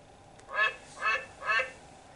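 A Dash robot toy plays a recorded duck quack three times in an even rhythm, each call clear and close against a quiet background.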